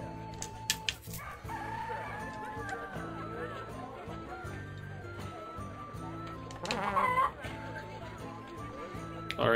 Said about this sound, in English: Alright, chicken buddy.